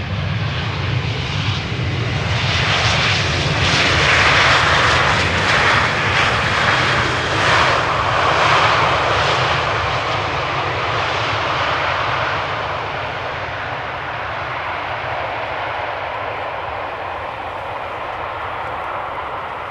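A Lufthansa Airbus A320 jet airliner from Frankfurt lands on the Polderbaan at Amsterdam Schiphol, a loud, close engine roar with a whooshing rush that peaks early and then gradually fades, without any talking.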